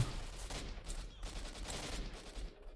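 Gunfire in a shootout from the video game S.T.A.L.K.E.R.: Shadow of Chernobyl, loud overlapping bursts of rifle and automatic fire cracking repeatedly at mid-distance, with no talk over it.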